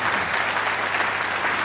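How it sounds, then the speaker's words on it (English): Steady, dense applause from a TV music-show studio audience, a full even wash of many hands clapping at once, loud and sustained throughout. "I think that deserves a round of applause."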